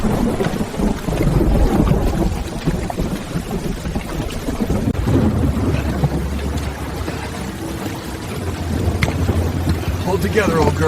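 A mountain thunderstorm with rain rumbles and hisses continuously, deep thunder rolling under a steady downpour, while someone talks calmly over it.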